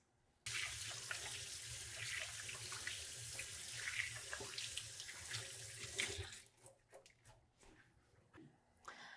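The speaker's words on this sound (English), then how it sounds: "And now I'm going to wash my hands." Hands being washed under a running kitchen tap, a steady close rush of water for about six seconds, then scattered splashes and drips as it stops.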